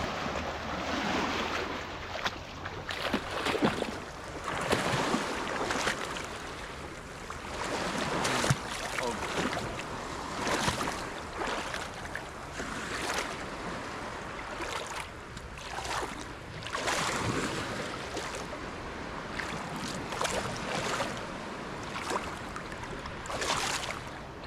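Sea waves wash steadily onto the shore at Camiguin around late afternoon, a continuous surging hiss with repeated swells breaking close by, wind brushing the scene.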